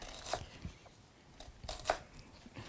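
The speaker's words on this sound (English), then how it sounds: "we're going to thinly slice the red onion" A knife thinly slices a red onion on a cutting board, giving a few soft, crisp cuts spaced apart that sound quiet and close.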